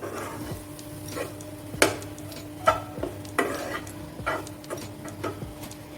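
Spices, coriander and chili powder, being stirred in a hot pan, with a steady faint sizzle under a run of scraping stirring strokes and a few sharper utensil knocks against the pan, close and fairly quiet.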